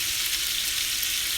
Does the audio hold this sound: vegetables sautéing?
yes